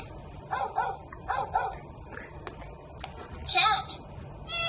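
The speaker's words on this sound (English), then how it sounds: "Dog" A toy picture book sounds a recorded dog barking, several quick yappy barks in a row, near and fairly soft, with brief speech and small household noises around them.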